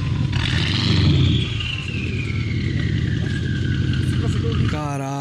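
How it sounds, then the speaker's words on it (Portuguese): A turbocharged V8 Mercedes E63 AMG with an aftermarket exhaust roars loudly and steadily, a rising turbo whine sweeping through as it accelerates hard on a highway, with people talking over it. "o barulho de V8 com o barulho de turbina"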